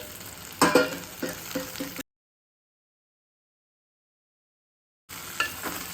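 Green cowpeas (choli) frying in oil for a Gujarati vegetable dish. Soft sizzling with several stirring clatters comes in two short bursts, separated by a stretch of silence.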